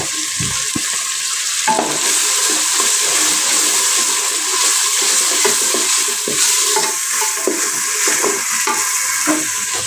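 Onion frying with chopped ginger for kacchi biryani gives a loud, continuous hiss and sizzle close to the pan, with a few soft stirring scrapes layered through the whole stretch and no voices.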